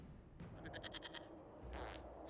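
A goat in the video game Dragon Age Inquisition lets out a close, wavering bleat of several quick pulses, followed by a brief second cry. A low background hum runs under it.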